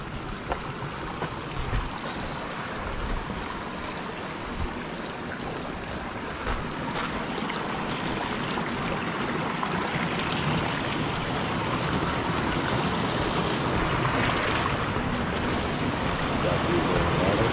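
A mountain creek on a Big Bear Lake hiking trail rushes in a continuous broadband wash that swells slightly louder toward the end, with wind and faint voices mixed in.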